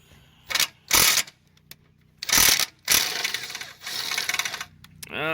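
Hand ratchet loosening the lower intake manifold bolts on a 1998 Mustang Cobra during a supercharger install: several short bursts of clicking, then a longer steady stretch of ratcheting, close and fairly loud, with no talking.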